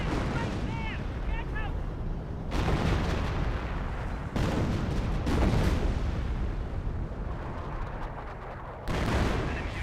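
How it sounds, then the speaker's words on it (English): In-game 25-pounder artillery gun firing in Company of Heroes, several heavy booming blasts spaced a few seconds apart amid continuous battle noise, with someone talking over it. "the 25 pounder does finish off the Ford HQ"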